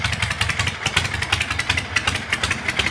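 1967 Generator Shovelhead chopper motorcycle warming up at idle, a close, loping rhythmic engine beat with uneven pulses repeating steadily.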